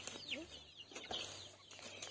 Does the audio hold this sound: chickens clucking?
yes